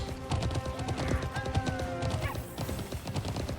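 Horses' hooves clip-clop in the Alicia Online video game, a dense, busy patter of many overlapping steps over a lobby's ambient music, with no voices.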